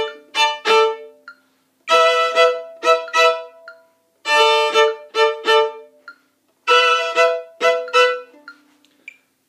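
Beginner trumpet plays fingered harmonics in four repeated phrases, each a run of short, bright, separated notes with gaps between, close and clear with no talk.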